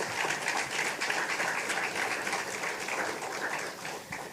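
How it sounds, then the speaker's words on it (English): Audience applause for school champions at a national French spelling bee, a steady crowd of clapping hands filling the room and fading slightly at the end. "Let us give them a round of applause."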